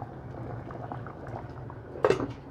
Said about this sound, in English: Let it boil there, 20 minutes, 25, 45 minutes, depending.